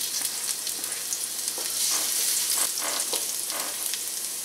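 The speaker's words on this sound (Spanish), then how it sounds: "Vamos a empezar por sofreír el ajo." Garlic sizzling in grape seed oil for a ground beef soup, a steady close crackle of frying with faint stirring and no voices.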